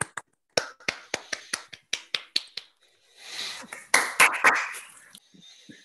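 Scattered claps from video call participants unmuting, a series of sharp separate hand claps in a loose rhythm, then a brief burst of overlapping claps and clatter that fades into light noise.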